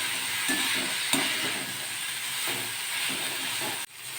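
Ginger and brinjal sautéing in oil for Chettinad maa inji mandi, a steady loud hiss of frying with a few stirring scrapes and a short knock near the end.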